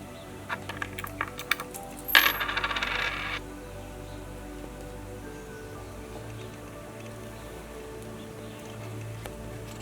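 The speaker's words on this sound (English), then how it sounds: "You toss the coins 6 times" Coins tossed for an I Ching consultation land with a quick metallic clatter and jingle after a few soft taps, then the room falls quiet except for a low steady hum.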